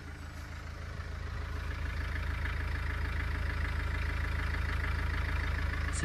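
A Nissan Kubistar 1.5 dCi K9K diesel van idles after engine repair, a steady low rumble with a fast even clatter that rises slightly in the first two seconds and then holds constant, with no talk.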